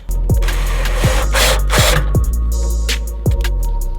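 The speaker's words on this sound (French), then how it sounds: "on va venir visser nos vis, donc les vis sont fournies" A power screwdriver drives the supplied screws into a plate inside a van being fitted with a water system. Several loud whirring bursts wind down, with rough scraping in between, close up and with no talk.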